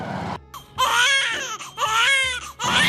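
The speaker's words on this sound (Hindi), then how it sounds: "बालक रोने की आवाज आओ है" An infant wails in loud, repeated bursts with short gasping pauses between them, close and clear, with a low hum underneath.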